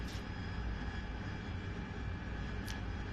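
Steady whooshing roar of an AV-8B Harrier jet engine spooling down in DCS during a night operation, continuous and fairly loud, with a couple of brief faint clicks and no talking.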